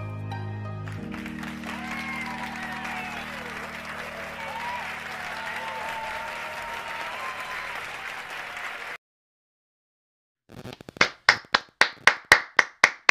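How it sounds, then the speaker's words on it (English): After a stretch of speech over a soft musical bed and a brief silence, a run of about eight distinct, evenly spaced claps follows a speech, loud and close. "That deserves a round of applause."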